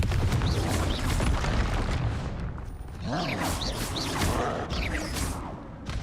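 Confringo blasting spells detonate in Hogwarts Legacy combat, a dense run of booming blasts and crackling bursts filling the whole stretch with loud, continuous game-battle noise, with a voice shouting over it.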